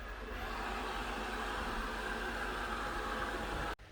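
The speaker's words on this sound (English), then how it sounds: "Alexa, start the vacuum." A robot vacuum cleaner runs with a steady, even whirring hiss that holds at constant level for several seconds, then cuts off abruptly near the end, leaving a quieter background.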